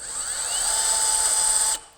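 A DeWalt 20V cordless hammer drill on its lowest speed mode whirs steadily with a high whine that rises gently at the slow start, then cuts off abruptly near the end.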